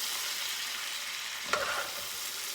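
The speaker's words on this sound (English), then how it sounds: "And just stir it in with your vegetables" Flour being stirred into sautéing vegetables for corn chowder, with a steady soft sizzle throughout and one brief scraping stir near the middle, close and fairly quiet.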